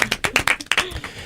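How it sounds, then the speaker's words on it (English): A few people in a television studio clap, distinct sharp hand claps in a quick, uneven rhythm, close and crisp, trailing off after about a second. "Everybody in studio, big round of applause for Philly B, the man."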